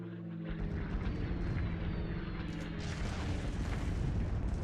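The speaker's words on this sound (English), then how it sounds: "we're going for the precision bomb here" A precision bomb explodes in the KARDS card game as a deep, rumbling boom that rolls on for several seconds, with a roaring, aircraft-like wash layered over it.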